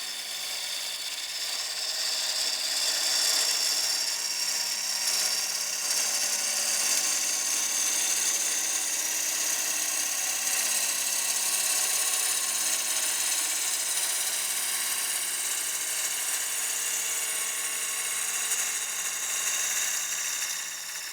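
A 3/8 bowl gouge makes a push cut on a partially seasoned wooden bowl spinning on a lathe, giving a continuous, fairly loud hissing scrape without pause. No voice is heard.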